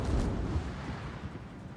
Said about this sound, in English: He gets the front guns out.